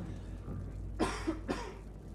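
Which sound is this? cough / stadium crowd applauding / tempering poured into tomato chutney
cough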